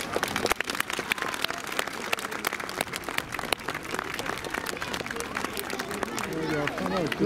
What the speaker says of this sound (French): Encore un tout bon travail, on peut l'applaudir